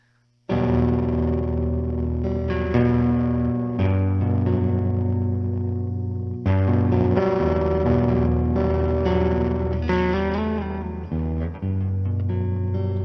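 Electric guitar played through an EHX Percolator harmonic distortion pedal, a loud sustained run of distorted chords and notes that rings out with brief gaps and no talking.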